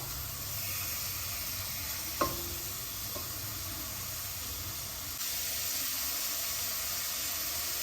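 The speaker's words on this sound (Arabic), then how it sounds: "غنخليها تدور الدجاج تشحروا" Chicken breast browns in a hot pan with a steady, moderately loud sizzle and hiss, interrupted by a brief sharp knock of a utensil near the middle.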